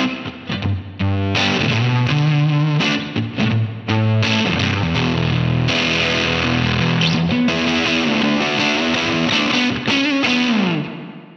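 Distorted electric guitar playing a line through effects, a continuous stream of gritty chords and bends, loud and close with no talking.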